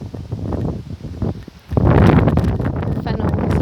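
Wind gusts through fennel plants in an allotment garden, a steady rushing of moving foliage and microphone buffeting that grows louder and denser partway through, with no talking.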